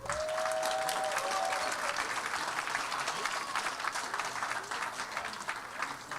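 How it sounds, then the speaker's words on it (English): Steady crowd applause at a school board meeting fills the whole stretch, dense and sustained clapping from a sizable audience, holding fairly even throughout. "give them a round of applause"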